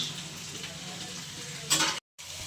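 Ghee-fried ingredients for paneer butter masala sizzle softly in a pan, with a low, steady crackle, a brief brighter flare of sizzling near the end, and then a short silence.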